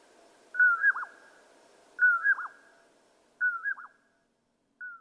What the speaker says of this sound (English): That song that we just heard is a common poorwill